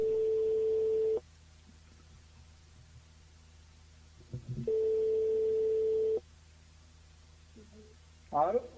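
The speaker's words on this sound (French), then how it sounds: "Donc on appelle Vincent sur le standard." Telephone ringback tone on a call placed to a radio listener's mobile: two long steady tones separated by a quiet gap, with faint studio background and brief sounds near the end.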